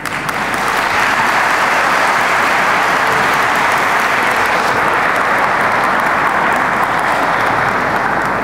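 Sustained audience applause at the close of a lecture held in the Gelibolu Mevlevi lodge, a dense, steady clapping from a full room that continues evenly throughout, with no speech over it.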